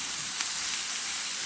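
Food frying in a pan with a pinch of salt added, giving a steady, even sizzle and hiss throughout with a faint scrape of stirring, close and fairly quiet, no voices.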